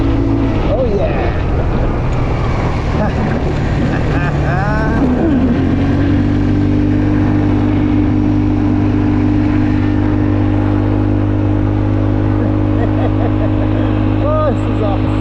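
A scooter engine runs loud and close throughout a ride, rising in a revving sweep early on and then settling into a steady drone mixed with wind rumble.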